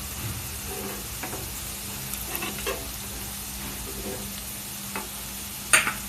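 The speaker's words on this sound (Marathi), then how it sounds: "आता मी सोयाबीन फ्राय करून घेते." Soybeans fry in oil over a high flame, giving a steady low sizzle with occasional light scrapes and one brief sharper clink near the end.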